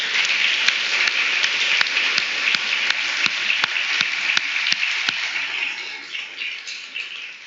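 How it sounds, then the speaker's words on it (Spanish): A church congregation applauding, steady broad clapping with some louder individual claps rising above the wash, holding at an even level and easing slightly toward the end, with no voices over it. "Así que aplauda al Señor, pero aplauda a usted mismo también."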